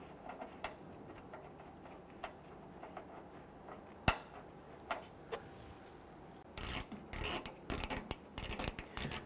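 Bumper bracket bolt on a 2007-2014 Cadillac Escalade being started by hand, scattered sharp metallic ticks and clinks, then a closing run of quick close ratchet clicks.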